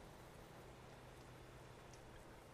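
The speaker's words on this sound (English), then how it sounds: "so I see it raining in game" Steady rain falling in the Euro Truck Simulator 2 driving game, set on roads in Eastern Europe: a dense, even hiss of drops that holds at the same level throughout with no talking.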